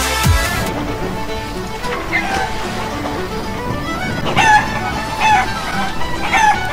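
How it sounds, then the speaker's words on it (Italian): Chickens cluck and a rooster crows repeatedly in the video game Blow the Hen Down, over a steady background of game music and ambient noise, with a voice briefly heard. "Come sbarazzarsi di una barca di galline?"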